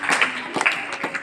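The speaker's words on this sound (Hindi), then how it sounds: "जोरदार तालियां दीपिका जोशी के लिए।" Clapping from an audience at a children's school event for Gandhi and Shastri Jayanti, a short burst of broadband applause with a few sharper claps, steady and fairly loud throughout.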